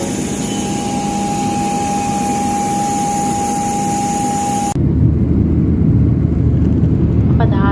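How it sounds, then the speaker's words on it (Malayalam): Airliner bound for Dubai taking off: a loud, steady jet engine roar with a sustained high whine, then the tone shifts abruptly to a deeper, heavier rumble as thrust builds, heard from inside the cabin. "ദുബായിലേക്ക് വർഷങ്ങൾക്ക് ശേഷം പോവുകയാണ് അവിടെ ഫ്ലൈറ്റിൽ പൊങ്ങുന്നു"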